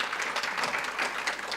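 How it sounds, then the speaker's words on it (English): Steady applause from a large audience at a 2017 jobs summit, dense clapping filling the room without pause. "Please give him some applause."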